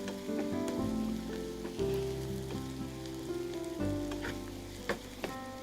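Onions with salt frying in a pan, a soft continuous sizzle with occasional light clinks and stirring taps, no speech.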